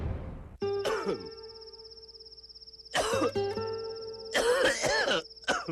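Three bursts of harsh, rasping coughs, close and loud, separated by short pauses with a steady background tone.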